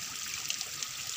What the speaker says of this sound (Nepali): यस्तो पर रसाएर आएको पानी